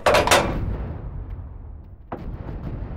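Rocket artillery firing in the Arma 3 video game: a loud, booming launch blast that rumbles away, followed by a second sharper report a couple of seconds later.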